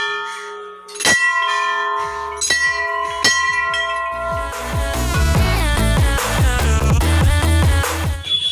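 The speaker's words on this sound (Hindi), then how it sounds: "तो गाइस आप लोग देख सकते हैं यहाँ पे बहुत ज़्यादा ही घंटियां है।" Many metal temple bells at Tilinga Mandir in Tinsukia, Assam, ring loudly and close, with a few single strikes and then a dense cluster of overlapping clangs and long ringing tones.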